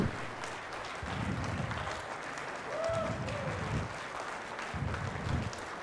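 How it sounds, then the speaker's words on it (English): A conference audience at a tech talk claps hands, a broad wash of clapping heard alongside bursts of low rumbling and a faint tonal whistle, the noise rising and falling throughout. "start clapping as loud as you can. Clap your hands."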